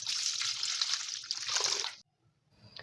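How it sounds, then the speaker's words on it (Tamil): Onion, green chilli and ginger being rinsed in water in a home kitchen, close sloshing and trickling for about two seconds, a brief pause, then more splashing. "பச்சை மிளகா 2, இஞ்சி ஒரு துண்டு இதில் தண்ணியில் போட்டு அலசிக்கலாம்."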